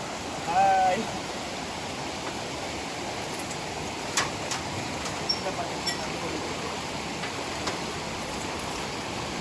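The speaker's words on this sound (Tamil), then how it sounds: "அங்கே தான் தண்ணி கீழே கொட்டுற இடம்" Water pouring down Pullaveli waterfall as a constant, broad rushing roar with little change, briefly swelling louder near the start.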